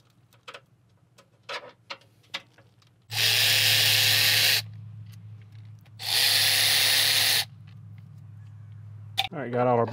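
A power tool whirs in two loud bursts of about a second and a half each while backing out cam cover bolts on a 2015 Subaru Outback, with quiet clicks and handling noises between and a voice briefly at the end.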